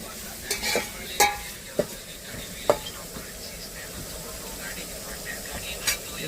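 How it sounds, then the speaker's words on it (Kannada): Spice tempering for upma sizzles in a pan in a truck-mounted kitchen: a soft continuous frying hiss is broken by several sharp clinks of a spoon stirring against the pan, with voices talking alongside. "ಈಗ ನೋಡಿ ಜಸ್ಟ್ ಮಸಾಲೆ ಒಗ್ಗರಣೆ ಕೊಟ್ಟಿದ್ದಾರೆ."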